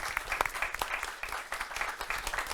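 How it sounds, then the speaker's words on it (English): Audience applause at a conference session on transboundary cooperation and water allocation, a steady patter of many hands clapping at moderate volume from a medium-sized crowd, with no speech over it. "I think it's a time of applause to everyone."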